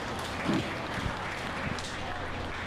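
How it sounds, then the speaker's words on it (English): Crowd applause for exhibitors of red gilts at a county swine show, a moderate spread of clapping in a livestock arena, with a voice briefly heard through it. "Give all these exhibitors a nice round of applause on a good set of red gilts."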